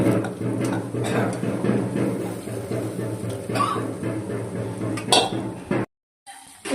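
Green peas are stirred into an oiled pan of fried onion, garlic and chili spice paste, with scraping and clinking of a spoon against the metal pan and a brief cough near the end.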